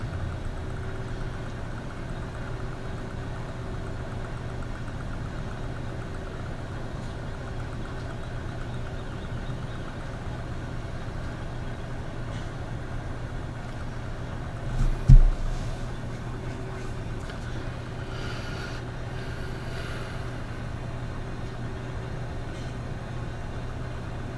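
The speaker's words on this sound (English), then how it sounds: "Using this tractor to give the green one a bit of a break." A tractor in Farming Simulator 17 idles with a low, steady engine hum throughout, broken by one brief thump midway; otherwise quiet and even.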